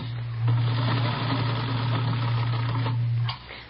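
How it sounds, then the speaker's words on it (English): A sewing machine runs while stitching ruffles onto a brown skirt, giving a close, steady motorized hum with a faint rattle for about three seconds before it stops. "I've got this sewing to do. I have to get it finished."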